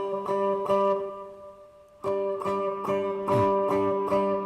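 A high-neck guitar chord from a song is strummed in a steady rhythm, stops, then resumes, bright and close with no talking.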